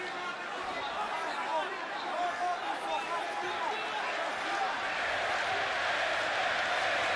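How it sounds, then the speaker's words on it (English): An arena crowd at the O2 Arena chatters and roars in a dense, continuous wall of noise, swelling slightly as it backs a home fighter, with a commentator's voice faintly underneath. "The crowd getting behind their home fighter here at the O2 Arena"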